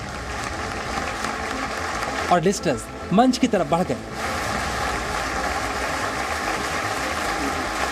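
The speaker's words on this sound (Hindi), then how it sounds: "खड़े होकर तालियां बजाने लगे" Audience applause at the announcement of the UK Conservative Party leadership result, a steady broadband clapping wash running throughout while someone speaks over it in the middle.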